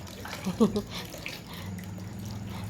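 Urad dal lentils are rinsed and swished in water by hand, giving a brief splash and sloshing burst, then a quieter watery murmur.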